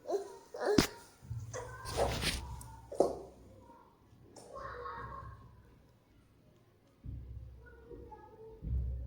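A puppy at home gives a few sharp barks and whimpers at close range, with short bursts separated by quieter stretches and some faint voices in the background.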